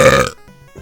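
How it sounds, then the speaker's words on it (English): A loud, drawn-out burp from a gamer during a retro video game stream, rumbling for about a third of a second before trailing off into near silence. "that burp was just obnoxious"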